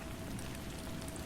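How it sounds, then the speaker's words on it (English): Gentle rain patters steadily and evenly on a surface, a soft continuous wash of fine drops with no voices, heard alone for a short stretch. "Outside, the gentle patter of rain commenced, crafting a soothing symphony"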